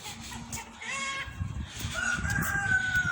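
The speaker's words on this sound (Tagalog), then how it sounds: "may mga manok pa dito mga guys" Chickens cluck nearby while a rooster crows loudly partway through, with a bit of background murmur.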